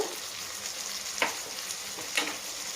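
Green peas sizzle and frying in a pan with pepper powder, salt and spices, with occasional sharp scraping strokes of a stirring spoon over a steady hiss.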